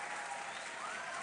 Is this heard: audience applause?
yes